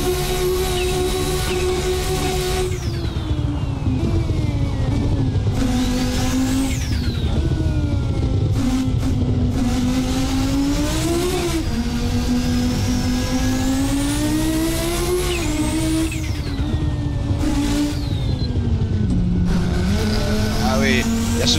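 A KRB Audi S1 silhouette race car in Assetto Corsa screams through its gears, loud and close, the engine pitch repeatedly climbing and dropping through upshifts and braking, with occasional tire squeal and someone talking over it.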